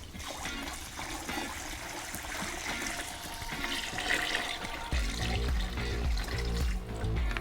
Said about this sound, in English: I'm gonna go ahead and add more water.